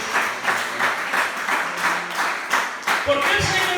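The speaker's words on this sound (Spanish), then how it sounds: "bríndele un aplauso al Señor Jesús" Church congregation applauding for Jesus during a Spanish-language healing service, a steady wash of clapping with rhythmic bursts across the whole stretch before a voice cuts in near the end.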